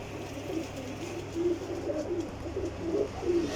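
Golden pigeons bred for Jheth endurance flying coo in soft, repeated low phrases close by over a steady background hum, with no talking.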